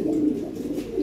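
Original European Lahore pigeons coo softly up close, a brief pair of low throaty coos with a slight pause between them.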